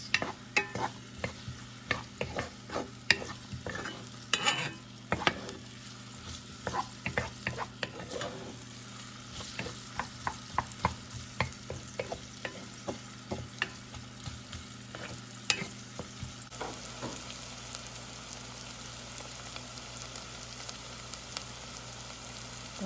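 Onion frying in a pan as it is stirred, a soft continuous sizzle broken by frequent scraping clicks of the utensil, fairly quiet and close, settling into a smoother hiss toward the end.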